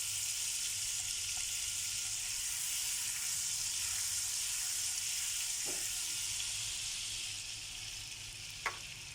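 Butter pieces heat in a pan for a garlic and egg omelette, giving a steady soft sizzle and hiss throughout, with a couple of faint clinks near the end.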